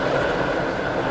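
A five-coach passenger train on an SCR Connect service to Benton in a video game rolls along steadily, a brief continuous rumble of wheels and carriage noise with no distinct clicks.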